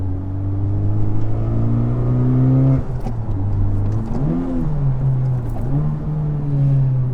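A Honda Civic Type R's valved sport exhaust, with both resonators deleted and a valved rear section, idles with a deep, steady drone, then blips and revs a few times up close, settling back to a rumbling idle.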